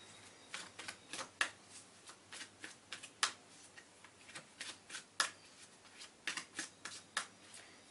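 Sacred Rebels Oracle cards being shuffled by hand, a rapid series of crisp riffling bursts and soft slaps in an irregular rhythm, close and fairly quiet with no voices.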